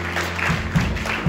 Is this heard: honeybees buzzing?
no